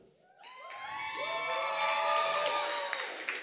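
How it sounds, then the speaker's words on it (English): A home crowd at a school graduation and award ceremony breaks into loud cheering, whoops and applause that swell quickly and stay strong, with high excited voices ringing over the clapping. "Wow, home crowd, Michaela."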